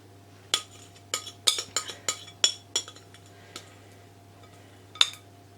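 A utensil spreads Betty Crocker gooey salted caramel over brownie mix in a pan, making a scattered run of light clinks and taps, quiet and irregular, over a low steady hum.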